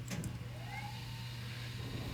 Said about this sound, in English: So the barrel motor sounds like this.